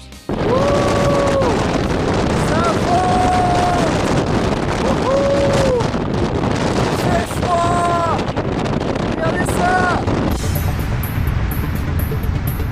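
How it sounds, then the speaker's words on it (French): Strong wind on a mountain summit in the Hautes-Alpes roars and buffets the microphone continuously, loud and close, with brief tonal voice-like sounds rising over the gusts. "Le vent est d'une violence rare qui m'empêche presque de filmer."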